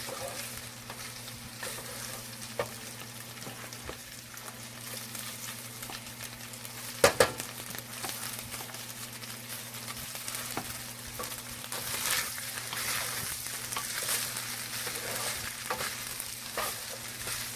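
Rice and shrimp stir-frying in a hot pan, a steady dense sizzle running throughout with scattered clicks and light scrapes of a utensil, plus one brief louder clatter midway, no voices.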